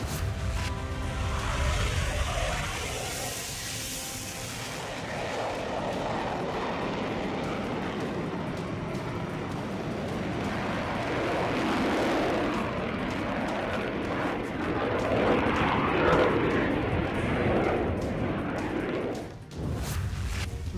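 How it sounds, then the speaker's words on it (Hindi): A Rafale fighter jet of the Indian Air Force flying, a loud, steady broadband roar that swells and holds for about twenty seconds with no voices. "भारतीय वायुसेना का ये वो लड़ाकू विमान है जो एक साथ 40 टारगेट की पहचान कर लेता है।"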